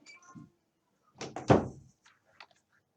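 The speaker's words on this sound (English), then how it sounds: "let me close the door" A door swings and shuts with a soft thud and latch click, preceded by faint shuffling, in a quiet room.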